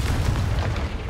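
A Confringo fire spell blast in the video game Hogwarts Legacy: a loud, rumbling burst with a deep booming low end that stays full for about a second.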